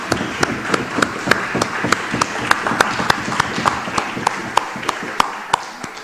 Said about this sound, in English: I believe that the Minister of Health deserves a round of applause.